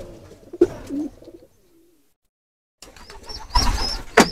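Pigeons in a pigeon loft coo close by in low, throaty bursts, broken by a brief near-silent pause, then resume more busily with soft chirps and fluttering movement.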